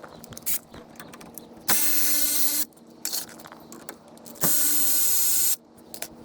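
A ratchet wrench loosens the two front brake caliper bolts on a 2007 Nissan Versa, with two long, loud bursts of rapid clicking separated by short metallic handling noises, close up and without talk.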